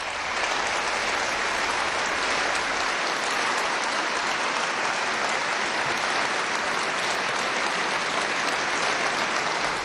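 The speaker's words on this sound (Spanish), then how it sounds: "Ovación de pie al Santo Padre en la gran sinagoga de Roma" A standing ovation fills the great synagogue of Rome, dense sustained applause from a large crowd, loud and unbroken for the whole stretch with no voices rising above it.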